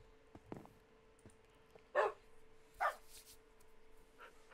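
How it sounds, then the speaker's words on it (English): A dog barking in the Minecraft video game, two short clear barks a second apart standing out over quiet in-game ambience, with a faint softer yip near the end. "Where's the puppy?"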